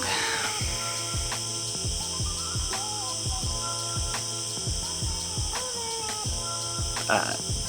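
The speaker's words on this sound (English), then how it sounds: "One of the good things I was hoping for with this rain was no cicadas, but looks like I was wrong." Cicadas drone in a steady high-pitched buzz after rain, continuous and fairly distant, with intermittent low hum and faint scattered noises beneath.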